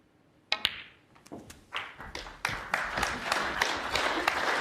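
A snooker crowd in the Crucible Theatre at the 2023 World Snooker Championship: a few sharp knocks first, then clapping that swells into steady, close applause filling the hall.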